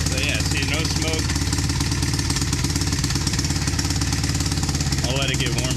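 Honda Recon ATV engine idling with a steady loud drone and a constant rattle over it, close up, with a voice talking briefly at the start and near the end.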